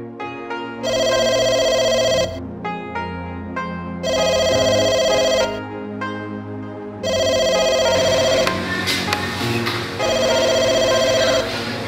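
A telephone rings repeatedly while someone calls their mother, four evenly spaced electronic ring bursts with short pauses between, loud and close over faint background noise.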